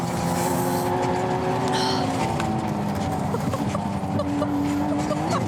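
A McLaren race car engine drones loud and close on tyre warming laps, with a steady roar and a few shifts in pitch as the revs change.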